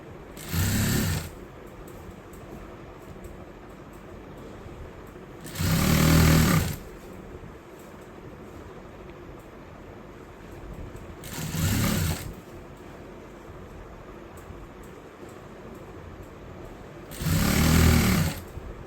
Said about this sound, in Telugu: ఈ విధంగా ఈ ప్రిల్స్ అనేవి నీట్గా సర్దుకుంటూ ఈ విధంగా స్టిచ్ చేసుకోవాలి.